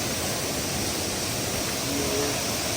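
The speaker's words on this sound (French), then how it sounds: "Donc on est au milieu d'une cascade, hein." A waterfall roars steadily and close by, a dense, unbroken rush of water that fills the whole stretch without any pause or change in level.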